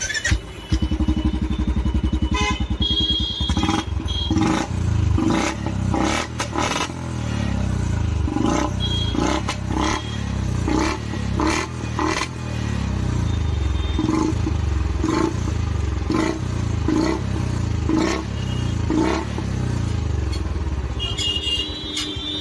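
Royal Enfield-style Classic 350 cc motorcycle fitted with a long Punjab exhaust, idling and blipping with a deep, steady thumping beat and occasional revs, close and loud, no talk.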